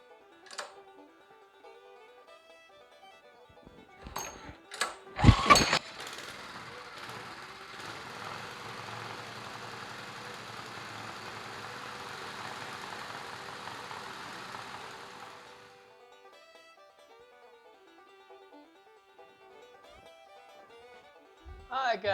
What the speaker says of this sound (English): I got our little motor warmed up just a hair.